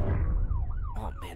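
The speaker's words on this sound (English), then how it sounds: "A lot of police sirens." Police sirens wail in rising and falling sweeps over a deep rumble of traffic, heard at moderate distance in a town setting.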